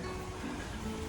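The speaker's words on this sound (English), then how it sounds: "Does that look like water? Can you hear it? It sounds like water." Water rushes steadily near a campsite along the Appalachian Trail, a constant even wash of flowing water with no other sounds standing out.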